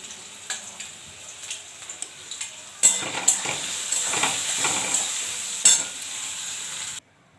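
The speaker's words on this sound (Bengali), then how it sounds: "আলুটা ভেজে নিচ্ছি, একটু নুন হলুদ দিয়ে দেবো।" Potato pieces fry in a pan with salt and turmeric, a soft continuous sizzle broken by scraping stirs and a few sharper metallic clinks of utensil on pan; no talking.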